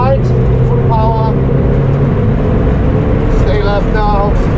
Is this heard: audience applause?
no